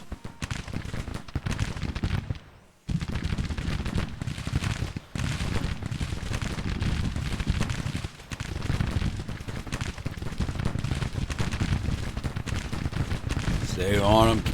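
Confederate infantry musket volleys crackle in a Civil War battle game, a dense continuous roar of rifle fire with rumbling booms, broken by a short gap near the start and carrying on loud throughout.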